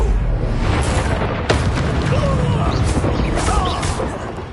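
Confringo blasting curse explosions in the Hogwarts Legacy video game, a loud continuous roar of booming blasts with a sharp crack near the middle, faint voices underneath.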